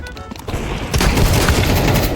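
Rapid gunfire in a free-for-all first-person shooter game played on a GEEKOM A9 Max mini PC, loud and dense bursts that thicken into a sustained volley partway through, with no talk.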